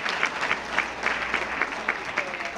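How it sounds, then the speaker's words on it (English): Applause rises from the audience at an ecumenical prayer breakfast, a steady, moderately loud wash of many hands clapping with no speech over it. "you need to clap for that"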